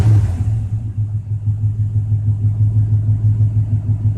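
A Chevy engine fitted with an Edelbrock carburetor idles after a cold start at about 800 rpm, a loud, steady, rhythmic low rumble that runs alone throughout.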